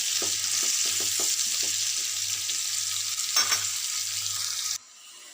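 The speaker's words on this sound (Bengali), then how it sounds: "আলুগুলো তেলে ভেজে নেব একটু" Potatoes coated in turmeric, chilli powder and salt fry in hot oil with a steady, close hiss, broken by a few stirring scrapes before the sizzle drops away near the end.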